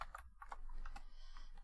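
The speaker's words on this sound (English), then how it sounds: "I'll get very quick at typing this" Quick bursts of typing on a computer keyboard, soft close key clicks in short uneven runs with brief pauses, fairly faint and alone.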